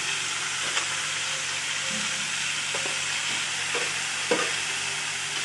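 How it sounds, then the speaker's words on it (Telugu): Food stirred in a cooking pot over a soft steady hiss of simmering, with a handful of faint scrapes and taps of a spoon against the pot at irregular intervals, quiet and close. "కలుపుకొని ఉడకబెట్టాలండి"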